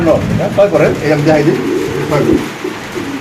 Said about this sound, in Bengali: এই দেখেন মাসাল্লাহ কবুতরটা এটা একটা নর কবুতর